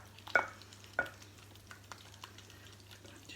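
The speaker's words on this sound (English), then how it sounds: "Just mix and stir that in." A spoon mixes olive oil into baba ganoush in a bowl. Two clear scraping knocks come first, followed by softer, fainter stirring strokes, quiet and close with no talk. A low steady hum sits underneath.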